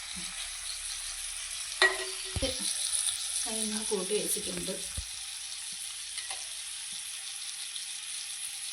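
Fish frying in a clay pot gives a steady, close oil sizzle with a bright hiss that runs the whole time, while a person talks briefly over it.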